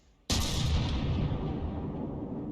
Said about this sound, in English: But this guy back here is still firing.